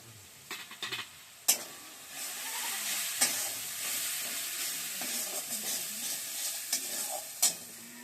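Ground coriander, cumin and a little dried chili powder sizzle in a pan for a doi katla fish curry, a steady hiss broken by a few sharp spoon knocks and stirring scrapes, close and with no talk.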